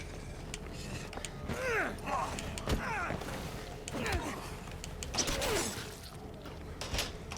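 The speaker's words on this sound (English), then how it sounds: "The door flings open in both directions for an unknown reason." A door creaks open with a drawn-out, wavering squeal in the video game State of Decay 2, repeating in several creaky swings over a background hum, with someone speaking now and then.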